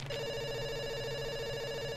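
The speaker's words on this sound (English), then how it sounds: "It's ringing. Don't worry." A telephone rings in the Dr. Langeskov video game, a brief, quiet electronic ring tone held steady for about two seconds with no talking.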